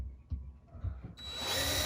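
A handheld power drill drives a screw to mount a cabinet glide-out, with a few soft knocks and handling sounds first, then the motor whirs up and runs steady and close at the end.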